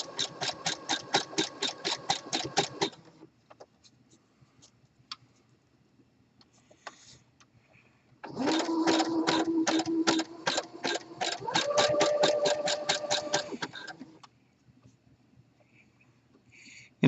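A sewing machine stitches braided elastic onto the leg hole of spandex swim fabric in two bursts of rapid, evenly pulsing stitches, with a quiet pause between them and a softer whine in the second run.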